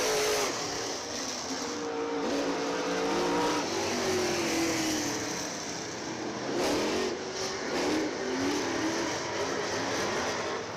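Race cars roaring through a turn at Dixieland Speedway, engines rising and falling in pitch as they pass close by, loud and continuous with overlapping motors and crowd-like wash behind.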